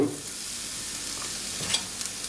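Red pepper flakes and ground chili sizzle in hot oil while being stirred gently, a close, steady frying hiss with faint scrapes of the spoon throughout.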